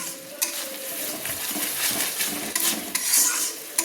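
Cashew paste being stirred with spices in a pan for chicken do pyaza, a steady close scraping and stirring with light sizzle and occasional utensil clinks against the pan.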